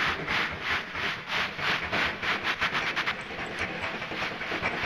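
Model trains run with a steady rhythmic clicking over the track, moderately close, with a faint hiss beneath and no voices.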